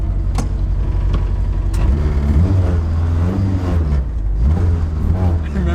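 A Honda-powered 200 hp drift car accelerates hard, its engine note rising and droning loudly from inside the cabin while occupants talk over it.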